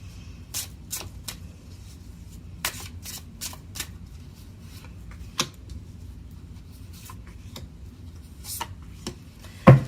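Mystic Moon oracle cards shuffled by hand in short bursts of crisp riffling and slapping, each a quick flurry separated by quieter gaps, close and dry with no talking, ending in a louder knock.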